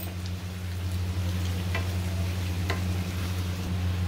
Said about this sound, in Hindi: अब लहसुन अदरक के पेस्ट को भी हम कुछ सेकंड के लिए भून लेंगे।